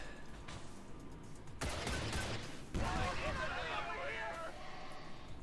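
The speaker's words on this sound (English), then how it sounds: "Alright, micro missiles." Micro missiles firing in XCOM 2, a burst of loud rushing blasts and crackling impacts across several seconds, with a voice talking over the barrage.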